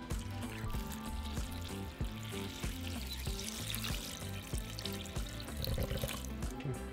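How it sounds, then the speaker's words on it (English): Thirteen cups of water pour into a soup pot for chicken tortilla soup, a continuous splashing stream with sloshing variations that runs steadily throughout, up close and with no voices. "Into our pot, we're going to add 13 cups of water."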